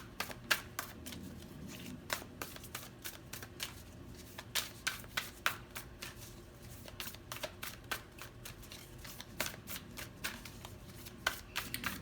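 Tarot cards are shuffled and pulled in quick, soft riffling bursts and crisp snaps, close and fairly quiet, spread irregularly across the stretch without speech.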